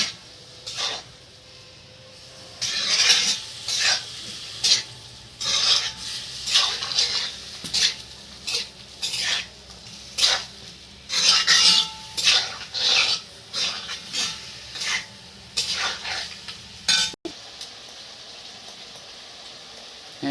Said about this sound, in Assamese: তাৰপিছত গোটেইখিনি ভালকৈ লৰাই মিক্স কৰি ল'লে